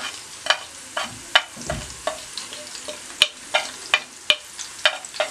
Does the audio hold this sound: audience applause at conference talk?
no